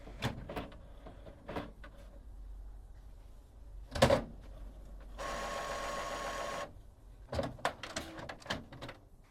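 An HP OfficeJet Pro 9015e all-in-one printer runs its startup check with scattered mechanical clicks and knocks, a sharp clunk, and then a steady motorized whir lasting over a second before more clicking.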